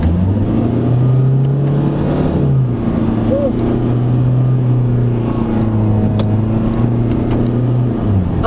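A 2022 Ford Ranger XLT 4x2 pickup with automatic transmission accelerates in sport mode. Its engine drones loud and steady from inside the cab, the pitch climbing and dropping as it shifts, with a little talk over it.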